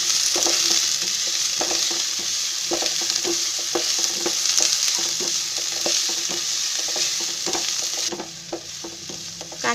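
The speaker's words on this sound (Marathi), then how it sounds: "कांदा असं मस्त भाजून घ्यायचा लाल होईपर्यंत" Finely chopped onion and two minced green chillies fry in a pan with a continuous, close sizzle. Rhythmic scraping taps from repeated stirring cut through it, with no voices.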